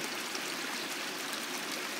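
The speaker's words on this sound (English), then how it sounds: "Now here's a little creek that's coming in from the meadow" A small meadow creek flows steadily nearby, producing a continuous broadband rush and trickle of running water with no voices.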